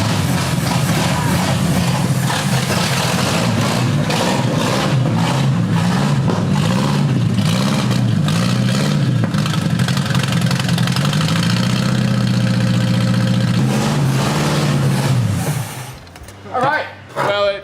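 A V8 engine idles on all eight cylinders with a steady, loud, even rumble, then cuts off abruptly near the end, leaving a few brief knocks.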